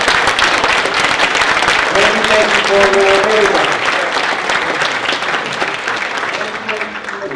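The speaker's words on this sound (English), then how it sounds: "Give them a big round of applause." Audience applause at the M.A.S.H Ministries Gala for the committee members, a dense, steady clapping from a large crowd that stays loud throughout and tapers slightly toward the end, with a voice speaking briefly over it.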